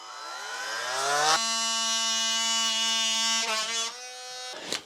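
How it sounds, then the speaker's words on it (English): An oscillating multi-tool buzzes loudly and steadily while cutting out siding on a tiny house wall, its high whine rising as it spins up, then holding a constant pitch with a brief dip near the end. "Let's see if this oscillating tool is going to work on this."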